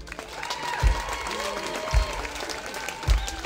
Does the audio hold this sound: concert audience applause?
yes